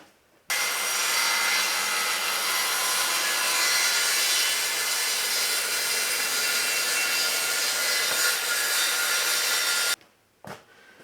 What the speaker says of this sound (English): because it's a straight line, I'll just use the skill saw